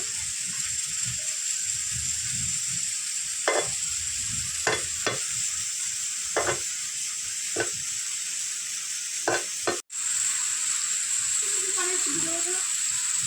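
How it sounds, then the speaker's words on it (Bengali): Lentils being mixed with a little mustard oil in a kitchen, with steady sizzling hiss beneath a series of short scraping, stirring strokes and a clatter, while a voice speaks briefly. "দিয়ে দেবো অল্প একটু সর্ষের তেল, ভালো করে এটা মেখে নেবো"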